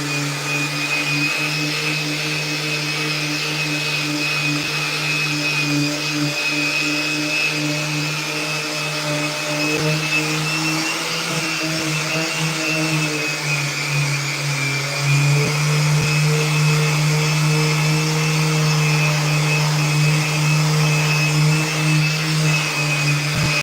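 A vacuum extraction system hooked to woodworking gear in a handcrafted skateboard deck shop runs as a steady, loud mechanical drone with a constant high whine, shifting slightly in pitch midway and continuing alone without talk.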